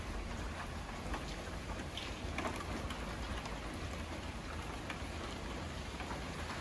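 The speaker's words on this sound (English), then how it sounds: "What I wasn't expecting was the noise of when it rains on the skylights." Steady heavy rain drumming on roof skylights of a house extension, a dense continuous hiss and patter with no pauses, fairly loud and close.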